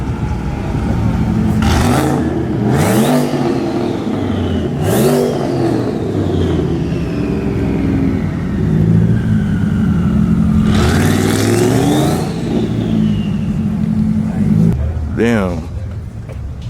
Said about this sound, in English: it's a Hellcat.